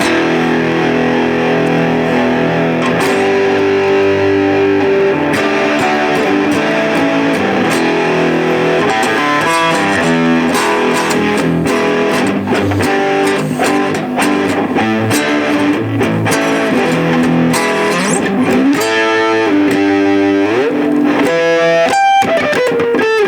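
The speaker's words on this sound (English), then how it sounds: "What does it sound like with distortion?" A Hohner Professional TWP Classic-N electric guitar played through an amplifier with heavy distortion, with loud continuous chords and riffs that fill the whole passage and end in a fast flurry of notes.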